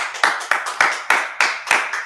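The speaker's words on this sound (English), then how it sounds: "Clap it up for his brother, man." Audience clapping in unison at a religious gathering, seven sharp, evenly spaced claps in a steady rhythm, close and clear with nothing else over them.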